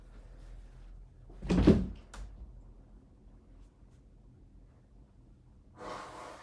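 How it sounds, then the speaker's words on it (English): A person blowing their nose indoors makes one loud, breathy honk, followed a few seconds later by a second, softer rushing blow, over a quiet room background. "I'm gonna blow my nose quick"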